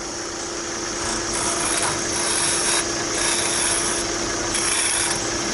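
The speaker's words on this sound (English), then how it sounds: "I'm going to just use a small bowl gouge." A small bowl gouge cuts wood on a lathe while a wine stopper is being turned. The cut rasps and scrapes continuously and closely, swelling and easing in a few passes, with no talk.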